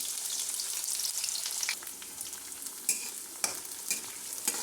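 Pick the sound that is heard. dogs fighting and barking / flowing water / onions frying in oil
onions frying in oil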